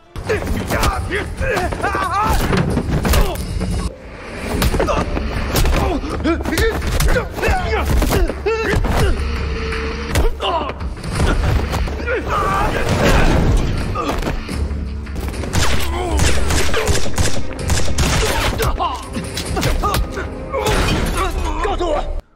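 Gunfire and crashing impacts in an action film scene about a sniper, dense and loud throughout, running under a continuous narrating voice.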